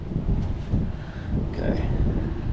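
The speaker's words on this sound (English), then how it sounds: "Where's this wind coming from?" Steady gusty wind buffets an outdoor microphone during work on a 1969 Dodge Charger, a loud low rumble throughout with a brief voice partly buried under it.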